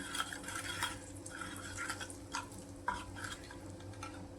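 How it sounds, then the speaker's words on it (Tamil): Soft stirring and scraping in a pan as chili powder and turmeric are mixed into heating oil for a paneer gravy, faint steady sizzle with light spoon scrapes, close and quiet. "இந்த ஆயில் காயறதுக்கு முன்னாடி இதில் கொஞ்சம் மிளகாத்தூள் மஞ்சத்தூள் போட்டுடலாம்."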